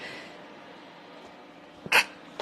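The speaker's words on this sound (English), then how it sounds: "That was a very polite sneeze, wasn't it?" One short, sharp sneeze bursts out near the end of an otherwise quiet stretch.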